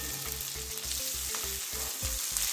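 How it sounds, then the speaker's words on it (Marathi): Potatoes sizzle and fry in a pan of Maharashtrian capsicum bhaji while being stirred, with regular scraping pulses over a continuous close crackle. "आता टाकतोय आम्ही याच्यामध्ये बटाटे।"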